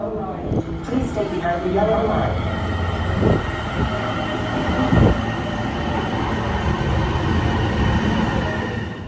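A train rumbles into a station in Seattle with rolling wheel and rail clatter and a few brief metallic squeals. Voices murmur in the background.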